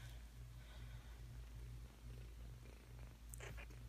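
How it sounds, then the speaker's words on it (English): A kitten purrs softly and steadily at close range, a low continuous rumble with a faint rhythmic pulse and no voices, very quiet overall. "Oh, must feel much better, you're purring."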